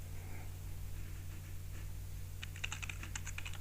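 Fast, light clicking of a computer keyboard being typed on, a short burst of keystrokes late in the stretch over a steady low electrical hum.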